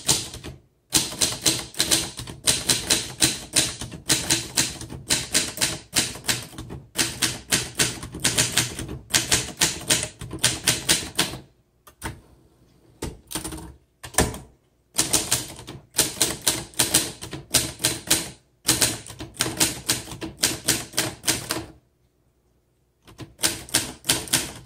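Rapid, steady typing on a 1960 Adler Primus manual typewriter, crisp key strikes in dense bursts with brief pauses between runs, close and loud with no voices.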